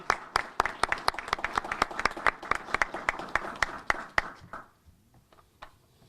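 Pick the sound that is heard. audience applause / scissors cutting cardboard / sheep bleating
audience applause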